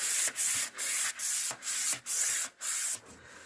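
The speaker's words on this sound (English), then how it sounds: "once you've done that light pass with the sanding sponge" Rhythmic back-and-forth strokes of a sanding sponge on painted wood, about seven even passes, close and fairly loud with brief pauses between them.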